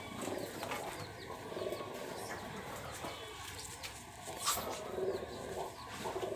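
Giribaz high flyer pigeons in a Rajshahi loft give soft, faint, repeated coos within a noisy background, with occasional rustles and wing movement nearby.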